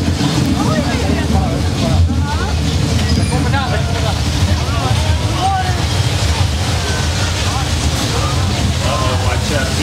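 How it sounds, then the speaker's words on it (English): A simulated flood rumbles toward riders on a theme park ride, a loud, steady low roar with wind-like noise filling the whole stretch, while voices murmur faintly beneath it. "I think the rumbling I hear, that is the flood Al Roker was talking about"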